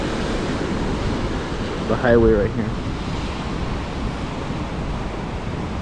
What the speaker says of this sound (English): the waves were crashing all the way to the top of